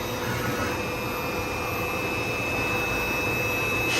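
A Hurco VM10i CNC machining center, a 2014 model, with its spindle running at 10,000 RPM gives a steady, continuous high-pitched whine over a broadband hum, holding even throughout with no talking.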